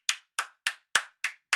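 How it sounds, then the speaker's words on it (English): Six crisp, close hand claps land one after another at an even, unhurried pace, each a sharp isolated smack with silence in between. "Clap it up."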